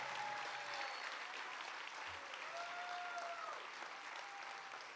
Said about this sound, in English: Applaud, one and all,